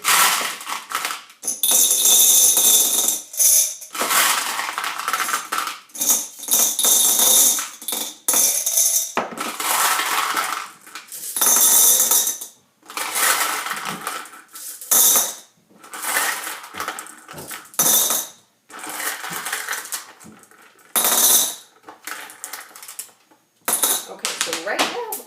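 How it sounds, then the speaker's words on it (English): 126 marbles are poured into a glass jar, clattering and clinking loudly and continuously in bursts with short pauses between pours. "I'm going to see if I can get all 126 of these marbles into this container."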